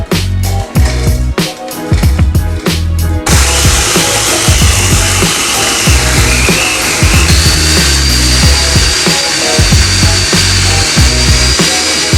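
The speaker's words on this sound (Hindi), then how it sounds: "हमने चीटोस को ग्राइंड करके उसका पाउडर बना दिया है।" Flamin' Hot Cheetos are ground into powder in a kitchen grinder: a few short loud pulsed bursts, then a continuous harsh whirring grind close up.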